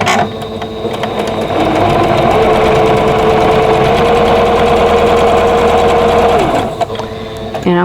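A sewing machine runs steadily for about six seconds, chain piecing a vintage Friendship Star quilt block, loud and close with a steady hum before stopping abruptly.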